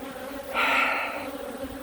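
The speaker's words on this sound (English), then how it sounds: "There's plenty of bees in there" Honey bees buzzing in an open hive during a queen cell inspection, a steady close hum that swells louder for a moment and then settles back into a constant drone.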